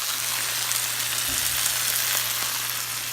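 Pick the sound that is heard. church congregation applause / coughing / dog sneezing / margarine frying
margarine frying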